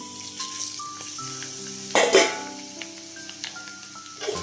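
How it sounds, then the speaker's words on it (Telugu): Mustard seeds, cumin and dried red chillies hit hot oil left over from frying amla, a sharp crackling burst of sizzle and spatter near the middle, then settling into a quieter hiss under faint background tones. "ఉసిరికాయలు వేపుకున్న నూనెలోనే మన తాళింపు గింజల ఆవాలు జీలకర్ర ఎండుమిరపకాయలు వేసేస్తున్నాము"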